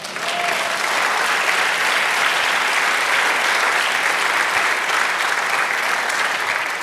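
A church congregation claps together in worship, loud sustained applause at an even level throughout, close and full, with no one talking over it.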